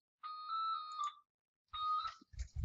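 Two bursts of a mobile phone ringtone sound indoors, separated by a brief silence, the electronic tone near and clear, followed by a few soft knocks and handling noises.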